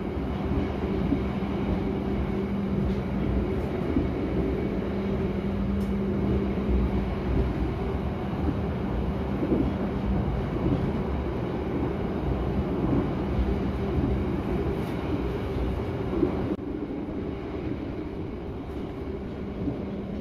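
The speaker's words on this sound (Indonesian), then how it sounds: "Dan beginilah situasi stasiun Bojonegoro di pagi hari ini." Bojonegoro railway station in Indonesia in the early morning hums with steady low rumble and broadband ambient noise, continuous throughout, with a slight shift near the end and no clear talk.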